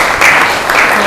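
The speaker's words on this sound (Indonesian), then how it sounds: "Tepuk tangan buat Sheila." Classmates give a short burst of clapping for a student, a brief, loud patter of hands up close.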